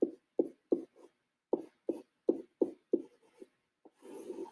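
A pen or pencil writes math expressions stacked vertically, short scratchy strokes in uneven bursts with brief pauses between them, close and fairly loud, followed by a soft rustle at the end.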